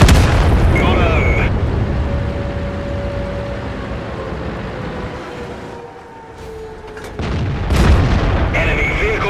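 Tank gunfire and explosions in a video game produce heavy booming blasts at the start and again near the end, with a lingering low rumble between them and game voices over the action.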